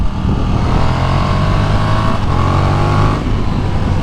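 A KTM 1290 R Super Duke sport motorcycle engine revs loudly and close by, holding a high, buzzing whine that rises and falls slightly before easing off.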